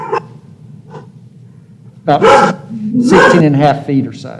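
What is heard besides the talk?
dogs barking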